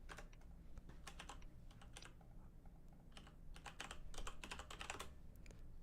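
Rapid typing on a computer keyboard during a MapleStory game stream, a dense, continuous patter of close key presses in uneven bursts that runs throughout, with no voice over it.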